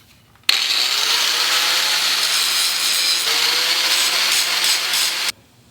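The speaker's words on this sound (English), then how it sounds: "I'm going to go ahead and grind off all the zinc on this head of the" An angle grinder grinds zinc coating off the head of a clamp bolt, a loud steady high-pitched whine with harsh abrasive hiss that runs continuously for about five seconds after a sudden start, then cuts off abruptly.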